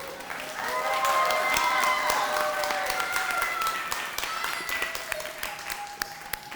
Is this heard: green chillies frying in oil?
no